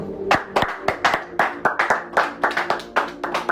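Church congregation clapping together, a fairly close, dense burst of hand claps in an uneven rhythm lasting a few seconds, with no talk over it.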